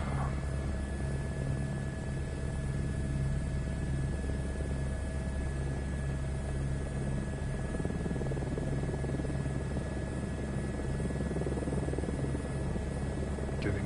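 A helicopter in Microsoft Flight Simulator 2024 powers up, lifts into a hover and takes off. Its turbine and rotor make a steady, loud, even drone that runs without a break.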